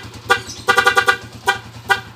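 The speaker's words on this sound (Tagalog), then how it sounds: "Okay, testingin natin yung busina." A BCB series car horn is tested with a series of loud, close, bright toots: one short blast, then a rapid cluster of several, then two more single blasts, over a steady low engine idle.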